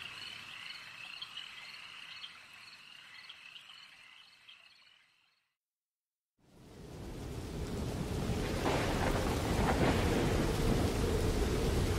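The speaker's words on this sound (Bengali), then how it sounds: "মুষলধারে বৃষ্টির সঙ্গে শোঁ করে বইছে উত্তাল হাওয়া।" A few seconds of frog-like croaking give way to a brief silence, then a dense downpour of heavy rain with wind swells in and holds as a loud, unbroken roar.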